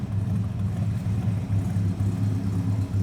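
A 1956 Ford F-100 pickup's engine idles with a steady low rumble and a regular pulsing exhaust beat, close and continuous throughout.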